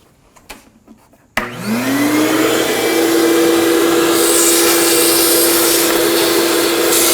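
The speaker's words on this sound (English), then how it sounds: "Then you want to use a vacuum and clean up all of the debris around the perimeter." A vacuum cleaner switches on after a few quiet clicks, spinning up with a rising whine and then holding a loud, steady roar.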